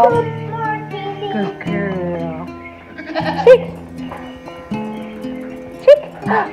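A goat bleats with wavering, voice-like cries over several seconds, close and fairly loud, mixed with a person's voice nearby.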